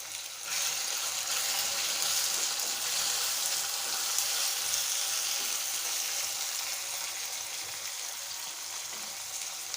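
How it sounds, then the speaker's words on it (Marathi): About fifteen garlic cloves and pieces of ginger sauté in oil in a pan, giving a continuous, even hiss with a slightly watery crackle throughout, with no talking. "अद्रक आणि लसूण दोन्ही हे पण तेलात परतून घ्यायचे"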